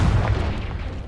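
Fiery spell blast in the Hogwarts Legacy game, a loud deep boom with rumbling low end that fades over about a second.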